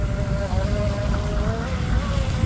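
A small fast RC mono boat on a pond, driven by a motor with a 32 millimeter prop, whines steadily at a high pitch. The motor sounds close and continuous, with wind and water noise beneath.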